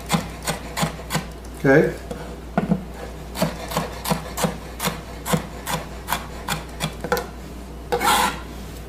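A sharp knife slices cucumber on a cutting board in a steady rhythm of crisp, close cuts, each stroke ending in a light knock on the board; a voice speaks briefly once.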